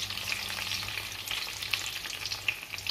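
Onions, chilies and tomatoes fry in a pan for ground beef, giving a close, continuous sizzle with crackling pops and a faint low hum beneath.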